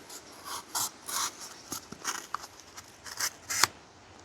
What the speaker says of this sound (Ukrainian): ось в мене тут картон, потрібно спробувати його порізати